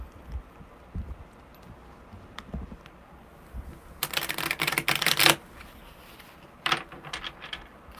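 Tarot cards shuffled by hand at a live reading, heard as a quiet burst of rapid riffling and flicking at close range, with a few soft taps and rustles before and after and no speech.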